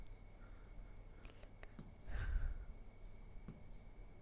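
Marker or chalk writing out a definition on a classroom board for a conic sections lesson, soft scratchy strokes in short bursts with a brief louder rub midway, close and faint, no talk.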